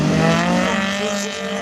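A race car on a slalom course at the Slalom du Mortanais, its engine droning loud and close with a shifting pitch and a hint of tire noise throughout.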